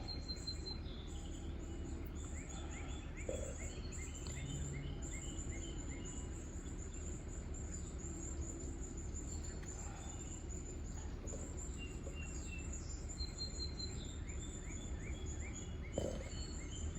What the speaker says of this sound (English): It's fun to listen to the birds singing.